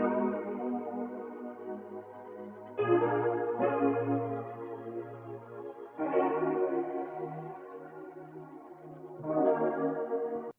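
A piano in a dark vintage R&B sample, soaked in vintage reverb with wow and flutter and chorus, plays sustained chords that change roughly every three seconds, warm, wavering and moderately quiet, with no voices.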